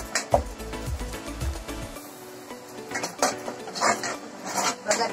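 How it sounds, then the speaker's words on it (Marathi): A spoon works through spiced masala with turmeric in a cooking pan, giving scraping and clattering strokes against the metal, heavier at first and then a string of lighter knocks and scrapes. "थोडंसं ढवळून घ्या."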